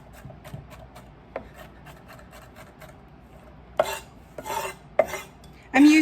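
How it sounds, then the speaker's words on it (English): A spoon stirs simmering red sauce in a pot, giving a few soft scraping rubs and light taps, with brief louder strokes near the end. "the red sauce at a simmer, stirring occasionally"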